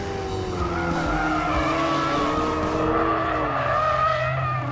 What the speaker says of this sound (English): It lets you select the angle of dangle through your drift by varying the amount of traction control.